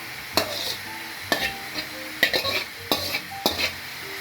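Glass noodles stir-fried with egg and tomato sizzle in a pan, with a spatula scraping and knocking against the metal in irregular strokes every second or so, close and clear, no voices.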